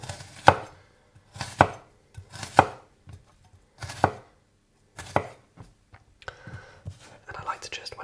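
A knife chops through an onion on a board in slow, separate thuds, about eight cuts with pauses between, and a soft whispering voice runs between the strokes.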